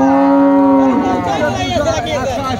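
A dairy cow at a cattle market gives one long, loud, close moo that rises and then wavers, with crowd noise behind it.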